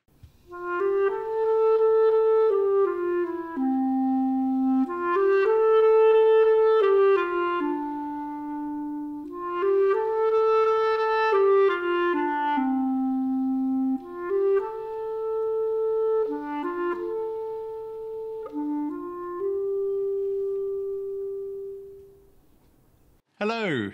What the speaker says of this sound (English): and I play the clarinet, and it sounds like this.